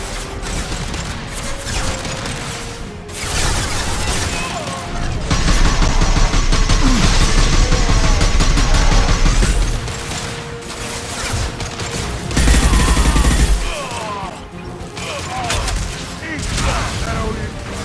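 Gunfire and explosions in the video game Mass Effect 2, bursts of rapid shooting and heavier booming blasts at mid distance over layered battle noise, with louder stretches mid-clip and near the end.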